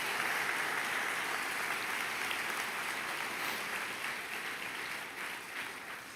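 Church congregation clapping during a sermon, a continuous wash of applause from many hands that holds steady and tapers slightly toward the end.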